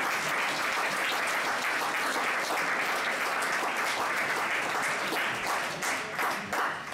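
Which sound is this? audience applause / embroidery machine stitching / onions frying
audience applause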